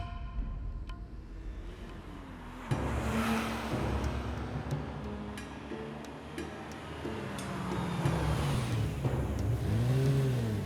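A car drives and turns around, its engine note rising and falling as it accelerates, with steady road noise throughout and some clicks and faint background sounds.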